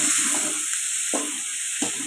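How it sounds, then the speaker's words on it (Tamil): Onions sautéing in a pan for a Tamil-style egg stir-fry, a steady hiss of frying with a few louder stirring scrapes at intervals, close and continuous, no talking. "அதனால் நம்ம வந்து எப்பயுமே வெங்காயத்தை வந்து கொஞ்சம் நல்லா வதக்கணும்"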